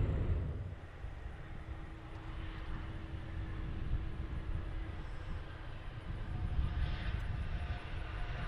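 A Southwest Airlines jet departs with a low, steady engine roar, fairly faint and distant, sustained across the whole stretch with a slight swell toward the end and no voices.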